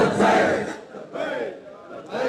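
A large crowd chants the Labbaik Ya Rasool Allah slogan in loud, rhythmic surges, three roaring bursts swelling and fading in quick succession, near and massed.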